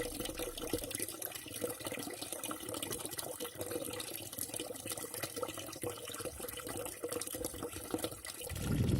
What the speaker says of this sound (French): régler plutôt le robinet d'eau pour avoir un débit de remplissage égal à la quantité d'eau qui s'infiltre